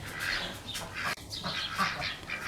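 Ducks quacking in a garden on a midsummer day, a steady chorus of squawky calls overlapping one another at moderate distance, with no talk.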